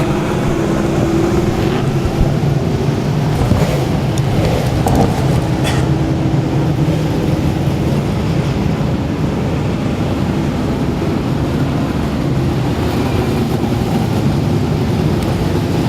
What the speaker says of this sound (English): he's going to get the checkered flag and do a victory lap